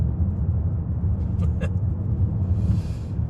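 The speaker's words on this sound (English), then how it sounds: "Yes, it is now accelerating up to 50 miles per hour." An Audi RSQ8 accelerates up to 50 mph on cruise control, giving a steady, continuous low engine and road rumble heard from inside the cabin, with no talking.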